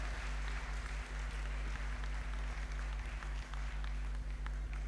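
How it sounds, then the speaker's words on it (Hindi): An audience applauds in honour of Mohan ji at a gathering, a steady stream of faint claps over a low constant hum. "जोरदार तालियां मोहन जी के सम्मान में आप सबके द्वारा।"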